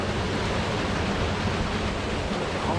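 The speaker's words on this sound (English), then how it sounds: "Look at this, folks, the water flowing through that." Peaty water rushes through the sluice gates of a Scottish loch, a loud, steady, unbroken roar with no pauses and no voices.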